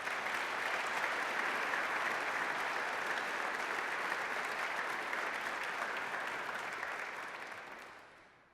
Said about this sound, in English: Let's give our award recipients another hand of applause.